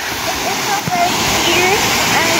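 Waterfall at Salurayan resort in Bukidnon roaring steadily as a loud, close, unbroken rush of falling water, with a voice faintly under it.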